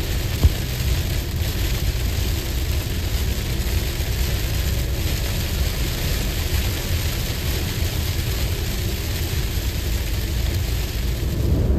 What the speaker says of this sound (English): We also hit a pocket of rain.